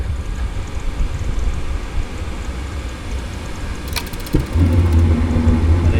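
RV furnace heater in a camper kicking on and blowing air: a steady low rumble and whoosh of the blower, with a click and a stronger low hum joining near the end, close and alone.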